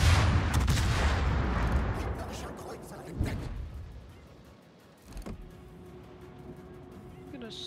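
Warship video game naval gunfire: a heavy, booming broadside roar at the start that rumbles and fades, followed by a lighter distant thud and a quieter mechanical hum.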